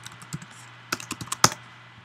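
Typing on a computer keyboard, a sparse scatter of light key clicks with a cluster of taps and one sharper press near the middle, close and quiet against a low hum.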